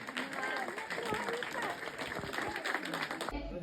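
Women's group audience clapping to welcome actress Priyanka Ubale at a Mi Ramai film gathering, a dense continuous patter of applause mixed with crowd chatter and voices, steady throughout and cutting off abruptly near the end.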